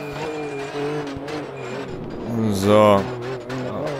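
Race car in the RaceRoom racing game revving under full throttle, a steady engine drone that swells louder near the end, with someone talking over it.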